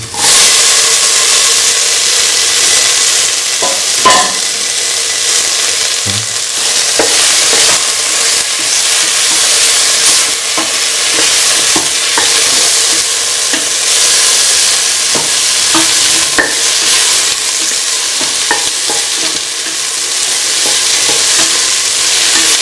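Tomatoes and green chili are mixed into a beef coconut stew base, which fries with a loud, continuous sizzle while a spoon scrapes and taps the pan at irregular intervals.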